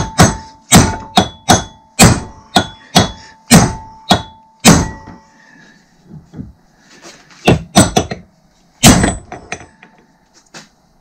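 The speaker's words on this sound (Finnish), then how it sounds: "Se antaa vähän vasaraa sille," Sharp metallic hammer blows on a Hobby 540 WLU caravan's wheel bearing ring out in a quick series of about ten strikes, a pause with faint clatter, then a few more hard hits close by.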